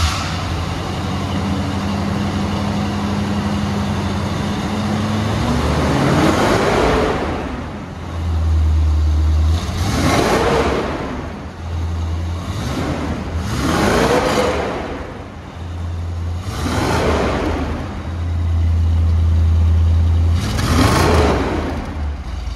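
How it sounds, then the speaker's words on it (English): A restored 1975 Corvette's small block V8 runs at a rumbling idle and is revved several times, each rev rising and falling, close and loud, with no talking. "we'll start this small block V8 up so you can hear how it sounds"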